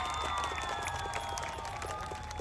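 An audience clapping, a dense patter of applause from a crowd with faint voices mixed in, steady and moderately loud across the whole stretch.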